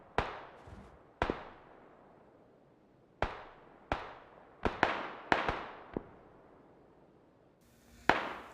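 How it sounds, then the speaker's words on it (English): Distant AKM rifle gunfire from another player up on a hill in PUBG, sounding as about eight sharp single cracks spaced irregularly, each trailing a short echoing decay, with no talk over them. "listen to this guy up on the hill on the left just firing randomly. No idea who he's shooting at, but that AKM is getting really annoying"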